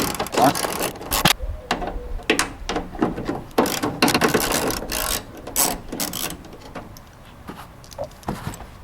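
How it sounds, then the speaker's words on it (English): Screws come out of the tail light on a 2014 Ford SVT Raptor, with close, irregular clicking and ratcheting bursts of a driver tool separated by short pauses. "now we're going to be removing these two screws to remove the tail light"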